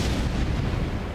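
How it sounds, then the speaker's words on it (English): A deep, heavy explosion from Hollow Knight: Silksong bursts as a booming, rumbling blast that fills the whole brief moment, loud and close with no voices. "It exploded."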